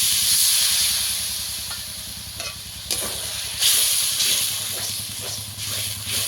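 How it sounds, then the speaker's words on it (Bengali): A little water is added to spice paste frying with chilli powder for a Bengali fish dish. It gives a strong, steady steaming hiss throughout, with stirring scrapes and brief surges. "অল্প একটু জল দিয়ে দেবো মশলা করা।"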